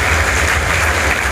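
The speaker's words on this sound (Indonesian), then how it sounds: "Tepuk tangan dulu untuk anak-anak muda-mudi Sumeneb." An audience at a Ramadan youth festival in Sumenep applauds, a dense, loud, steady wash of clapping filling the short moment with no talk over it.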